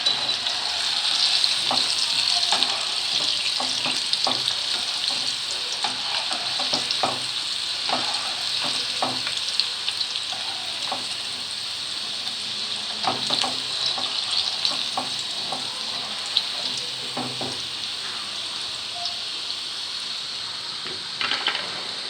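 French fries frying in hot oil in a second fry, a dense steady bubbling sizzle with occasional clinks and stirs, close and continuous throughout, no talking.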